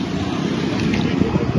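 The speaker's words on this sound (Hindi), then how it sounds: "बहुत हवा चल रही है" Strong wind gusting across a foggy hilltop viewpoint, a loud steady rush and buffeting roar against the microphone with no pause.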